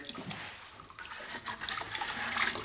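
Water sloshes and pours from a bucket at a gold mine, a steady splashing rush that grows louder toward the end, with no talk over it.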